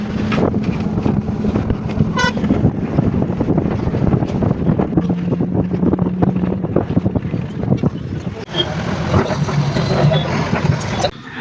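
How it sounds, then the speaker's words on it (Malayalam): Vehicle horns honk along a highway toward Coimbatore, one clear brief blast rising above heavy wind buffeting and engine roar from a moving bus. "ഹോണടിയുടെ ആ ഒരു വലിപ്പം കണ്ടില്ലേ?"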